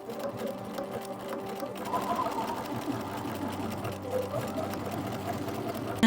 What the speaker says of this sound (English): Take this to the sewing machine and add 1 single stitch down the middle of each twill tape